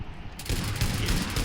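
A short burst of rapid gunfire rings out during a team deathmatch in the mobile shooter BGMI. The close shots crackle for about a second.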